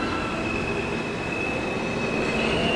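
Subway train in a video game rolling through a station, a steady loud rumble of wheels on rails with a sustained high squeal running throughout.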